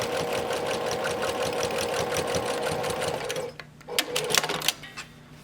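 Sewing machine back stitching along the edge of a pocket on a fabric face mask keychain case, a steady rapid mechanical whir that stops abruptly past midway, followed by a few brief stuttering bursts of stitching.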